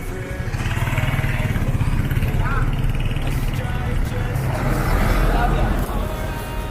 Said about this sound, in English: just the noise that you can hear from this place, like for cars, trucks, motorbikes.